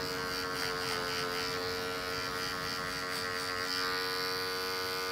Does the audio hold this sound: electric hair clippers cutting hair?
yes